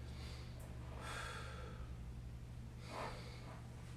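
Two soft, breathy exhalations during a floor stretch, one just after the first second and another near the end, faint over a steady low hum.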